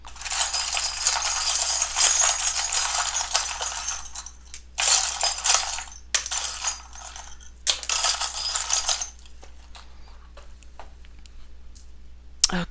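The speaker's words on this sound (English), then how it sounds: "I just shuffle around several times until I take out several handfuls of charms." Handfuls of small charms are shuffled together at close range, producing bright metallic clinking and jingling in several loud bursts separated by brief quiet pauses, with no talking.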